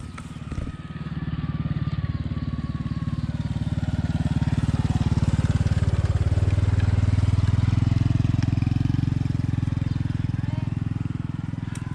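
Motorcycle engine running steadily and loud on a mountain trekking trail near Sapa, building from a brief start into a sustained close drone that persists for the whole stretch, with no clear voices over it.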